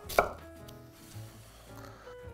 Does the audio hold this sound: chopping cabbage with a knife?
yes